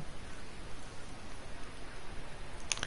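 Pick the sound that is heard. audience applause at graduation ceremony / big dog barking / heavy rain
heavy rain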